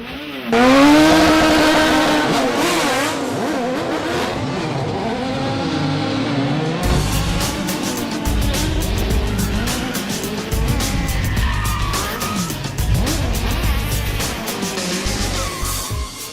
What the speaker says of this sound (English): a live, high-octane look at how vehicle action stunts are created for the movies